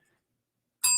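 A single bell rung as a birthday greeting, a bright metallic ding that strikes suddenly near the end after near silence and keeps ringing.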